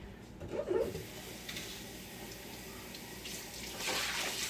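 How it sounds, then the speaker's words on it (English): Water from a kitchen tap running into and over an empty food can as it is rinsed out, fairly quiet and uneven with splashy swells near the start and end. "And I always recycle, so I'm rinsing the can out."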